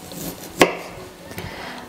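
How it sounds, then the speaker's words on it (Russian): A single sharp knife chop through ginger on a board, followed by a fainter second tap, with quiet room noise between. "Имбирь нарезаем"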